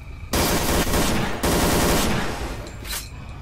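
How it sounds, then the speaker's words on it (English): Bursts of automatic gunfire from the video game STALKER Call of Pripyat with the Misery 2.1 mod, loud and close, in two sustained volleys that fade into scattered shots. "He'll see him and he'll just start shooting them in the head just right off the bat."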